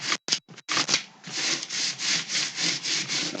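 A clean, dry hand rubs dried masking material off watercolour paper in steady back-and-forth strokes, a close, dry scraping rasp repeated about ten times after a few short opening swipes, with no talking.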